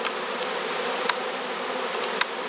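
A captured honeybee swarm buzzing in a dense, continuous hum, close and steady, with a couple of brief sharper clicks and no talking.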